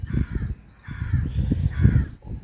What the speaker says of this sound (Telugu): కాకి ఆడ కాకి అరుస్తున్నా కదా